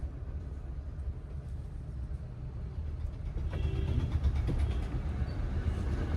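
A car creeping forward on half clutch through a narrow lane. A low, quiet engine rumble continues throughout and grows somewhat louder and busier partway through, with no talk.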